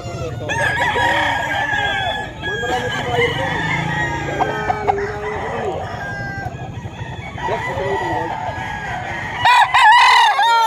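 Lemon Sweater gamefowl roosters crow repeatedly at a busy Bocaue, Bulacan pet market, several birds overlapping near and far with some clucking and background chatter.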